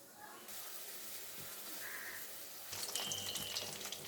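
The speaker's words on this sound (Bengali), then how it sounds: "এখন কড়াই গরম করে সর্ষের তেল দিয়ে মাছগুলোকে ভেজে নেব।" A quiet, steady hiss of fish frying in mustard oil in a wok, growing louder and crackling near the end, with faint background noise.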